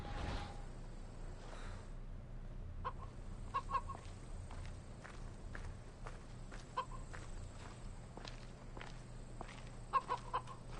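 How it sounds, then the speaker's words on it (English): Soft, scattered clucks from a chicken in Assassin's Creed Odyssey come and go over a low ambient hum, faint and fairly distant, with irregular short bursts and clicks spread across the stretch. "Does it say he has a pet chicken with him?"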